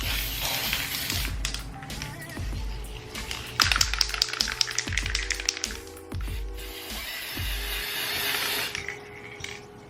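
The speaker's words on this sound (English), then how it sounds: "I'm going to get going on the snow spray now, which you can also buy in Poundland" Snow spray aerosol hissing onto a Christmas wreath over newspaper, several bursts of spray with short gaps and small clicks and knocks in between, close and moderately loud.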